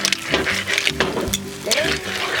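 Linguine with clams tossed in a sizzling pan, with a constant frying crackle under repeated clattering tosses, loud and close.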